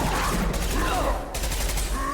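Heavy gunfire in a Mass Effect 2 firefight, a short dense burst of shots with game noise, loud and close.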